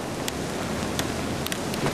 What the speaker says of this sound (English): Wind gusts about 50 miles an hour.